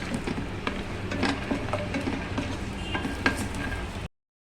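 Peanuts frying in a pan for a brinjal fry recipe, with a steady close sizzle and scattered stirring scrapes and clinks from a utensil against the pan throughout, no talking.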